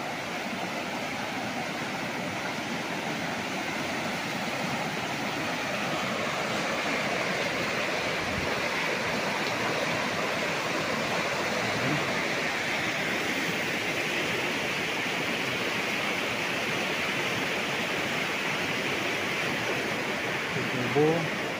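A river in Cavinti, Laguna rushes continuously nearby, a dense, steady roar of flowing water that barely changes for the whole stretch.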